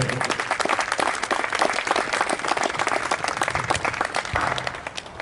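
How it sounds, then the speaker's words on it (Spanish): An audience at a boys' doubles tennis trophy ceremony applauds, dense loud clapping from many hands sustained evenly throughout. "Un aplauso para ellos, por favor."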